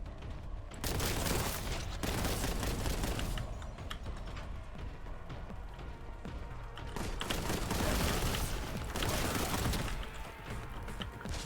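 Rapid, heavy gunfire from a bolt gun in the shooter Warhammer 40K: Boltgun, loud bursts of shots with crunchy mechanical clatter running almost continuously, easing briefly in the middle before building again.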